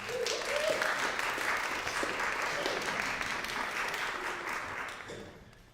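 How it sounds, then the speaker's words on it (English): Audience applause after a performance at a senior recital, a continuous wash of many hands clapping at moderate volume that holds steady and then fades out at the end, with a few voices underneath. "Can I get another round of applause for Nate?"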